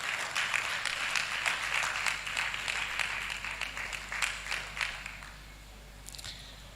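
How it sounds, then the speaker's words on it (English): An audience at a medical laboratory science induction ceremony claps in a faint, steady patter that tapers off toward the end, heard from a distance in a large room. "Please a round of applause for her."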